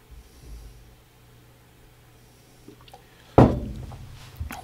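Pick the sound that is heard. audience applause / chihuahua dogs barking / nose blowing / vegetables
nose blowing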